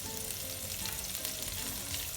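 Spices sizzle steadily in a hot pan while being stirred, part of cooking Nigerian noodles with regular seasoning, a close, constant frying hiss with no talk.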